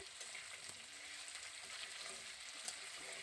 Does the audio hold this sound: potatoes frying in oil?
yes